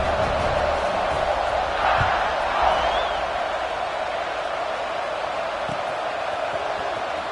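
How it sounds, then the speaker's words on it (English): A stadium crowd in the College Football 26 video game keeps up a broad, steady roar, loud and continuous with slight swells, during a kickoff after a touchdown. "this crowd is buzzing after that last score"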